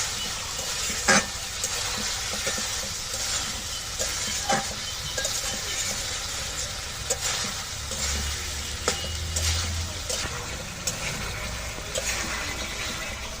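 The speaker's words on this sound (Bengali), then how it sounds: "সব মশলা দিয়ে এই আলু আর সুন্দর দেওয়াগুলো সুন্দর করে কষিয়ে নেব।" Potatoes sautéing with spices in a pan after hot water is added, a steady bubbling sizzle with intermittent stirring clicks and scrapes, close and continuous without talk.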